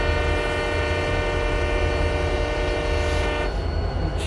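A diesel freight train horn from the RO-Scale Sandbox game blasts one long, loud, steady chord over a rumbling engine, continuous for several seconds before easing slightly near the end.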